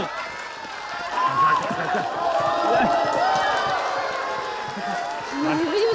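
A lively indoor crowd at a banquet table eggs someone on with overlapping shouts, laughter and scattered clapping, voices rising and falling close by.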